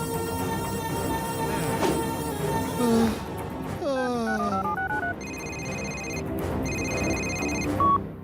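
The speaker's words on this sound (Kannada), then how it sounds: "ಶಿವಂಗಿಗ ಫೋನ್ ಮಾಡ್ಬೇಕು." A telephone rings with bright repeated electronic tones in two bursts, preceded by musical background sounds, loud and close.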